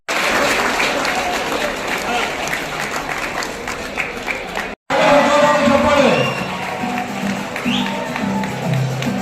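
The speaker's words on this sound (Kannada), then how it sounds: "ವಿದ್ಯಾರ್ಥಿಗಳ ಜೋರಾದ ಚಪ್ಪಾಳೆ" Students at a PU college function applaud loudly for a distinction-holding student, a dense, sustained wall of clapping with crowd noise, briefly cut off midway before resuming.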